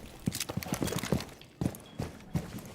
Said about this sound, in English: I hear multiple footsteps.